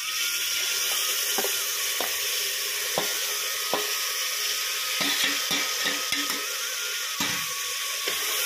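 Masala browning in a pan for a Garhwali taro leaf saag, a steady close sizzle and hiss with repeated scraping stirs of a spoon against the pan, no voices.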